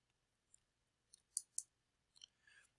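Computer mouse clicks, a few faint, sharp isolated ticks spaced unevenly over a quiet background, with a soft rustle near the end.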